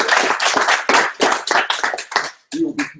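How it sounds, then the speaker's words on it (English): A small class claps after group presentations in a management course, a few people close by producing sharp, uneven bursts of clapping that stop and start. "So, quick round of applause for everybody in their hard work."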